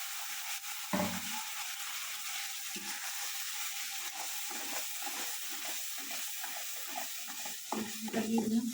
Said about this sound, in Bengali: দেখো আমি পেঁয়াজটা ভাজা আমার হয়ে গেল। এবার আমি মশলাটা দিয়ে দেবো